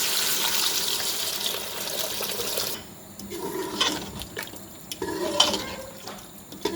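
Water poured from a cup into a pot of browned mutton chops, a loud rushing pour for nearly three seconds, then clinks of metal and stirring sounds, close up with no talking.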